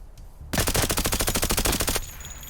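Rapid automatic fire of 9x39 7N12 rounds at a wall in Escape from Tarkov: a loud, dense burst of about twenty evenly spaced shots lasting roughly a second and a half, followed by a short decaying tail.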